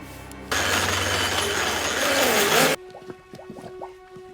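In a scene from the 2007 film There Will Be Blood, water gushes in a loud, dense rush for about two seconds, then stops abruptly and gives way to quiet talk.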